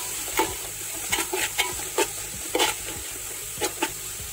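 Onions with salt and turmeric frying in a pan for Kerala-style kappa biryani, a steady sizzle broken by repeated sharp scrapes and stirs of a spoon against the pan, close and fairly quiet, with no talking.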